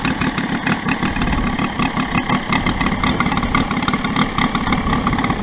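A Saito FG90 four-stroke model airplane engine on a Corsair idles low near 1,000 RPM, a loud, close, steady rhythmic chugging that continues unbroken throughout.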